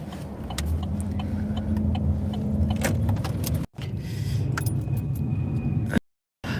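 A car rolls up with its engine running steadily, keys jangling loudly up close over the motor noise, with a brief dropout partway through and no talking.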